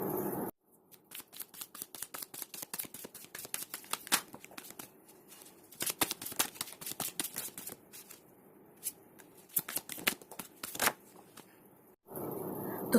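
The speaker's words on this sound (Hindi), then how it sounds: "पहले मैं कार्ड्स को शफल करूँगी।" A deck of tarot cards being shuffled by hand in a quiet room, rapid crisp riffling flicks in bursts over about eleven seconds, close and clear with no talking.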